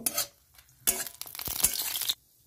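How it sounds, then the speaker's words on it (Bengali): Chillies go into hot oil in a wok and fry, with a loud sizzling hiss in bursts, stirring clinks, and a sudden stop. "এবার তেলটা গরম হয়ে গেছে, লঙ্কাগুলো দিয়ে দেবো, ভালো করে ভেজে নেব।"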